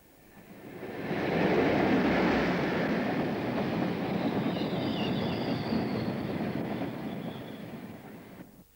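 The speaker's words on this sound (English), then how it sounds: "a train of empties from High Marnham arrives for Thoresby Colliery" A freight train of empty colliery wagons from High Marnham approaches and rumbles past toward Thoresby Colliery, swelling from quiet to a sustained loud roar with faint wheel squeal, then easing off at the end.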